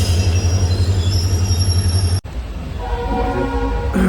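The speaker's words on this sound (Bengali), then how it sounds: "10:31 বাজে ছাড়লো ট্রেন।" Dooars Queen passenger train pulls out with a loud steady low rumble, then after a sharp cut wheels squeal in sustained high tones over continuous rolling noise, heard close from inside, no speech.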